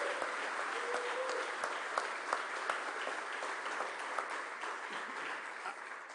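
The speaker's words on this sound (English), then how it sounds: "Give a round of applause for Sam T." Rally audience in Philadelphia applauding steadily, a dense wash of clapping throughout with occasional sharper claps standing out, no voices over it.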